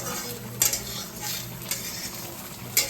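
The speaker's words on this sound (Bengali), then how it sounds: "এটা হলো নিম পাতা আলু দিয়ে ভাজা" Neem leaves frying with potato in a pan make a close, continuous sizzle, broken by a few sharp clinks of a utensil stirring against the metal.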